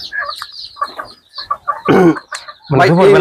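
Desi chickens on a farm cluck in short bursts early on, followed by two louder, close bursts of squawking or vocal sound near the end.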